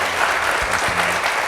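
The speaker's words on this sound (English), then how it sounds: "everybody give a big round of applause for these guys." A festival audience at a political cartoon and satire event breaks into steady, dense applause, close and continuous for a brief moment.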